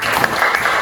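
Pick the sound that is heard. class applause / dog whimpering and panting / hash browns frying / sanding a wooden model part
class applause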